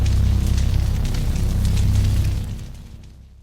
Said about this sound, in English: So the first of which is going to be a ring modulation effect.